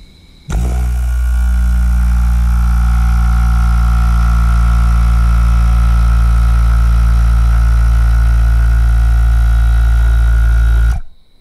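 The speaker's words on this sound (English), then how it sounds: "I gotta hold this compressor" An air compressor for an eBay air ride suspension system kicks on abruptly and runs loud and steady with a strong low hum and motor whine, then shuts off near the end.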